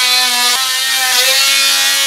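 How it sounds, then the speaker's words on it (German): A small, loud electric sander grinds the corners of a wooden board. Its strained whine is steady and continuous throughout, close and very loud. "Das mache ich jetzt mal an und dann schleife ich erstmal hier die Ecken ab."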